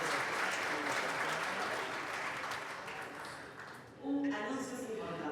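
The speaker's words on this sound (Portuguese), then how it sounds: "Um aplauso." Audience applause at a conference plenary session, a steady sustained clapping that thins out briefly, then a voice speaks over the tail of the clapping.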